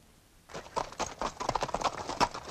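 Hooves of a wild horse, harnessed to a cart, clip-clop in a quick, uneven rhythm that starts abruptly after a short quiet moment and keeps going, fairly close and moderately loud.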